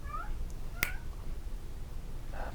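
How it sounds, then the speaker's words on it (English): A house cat meows indoors: a short, clear meow near the start, a sharp click in the middle and another soft meow at the end over a steady low background hum. "cat's being a nuisance."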